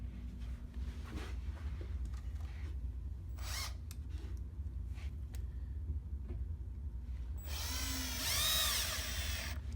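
Power drill fitted with a Phillips bit driving screws into a shoebox, with short whirring bursts and handling clicks, then a longer, louder drill run near the end, close by with no talk.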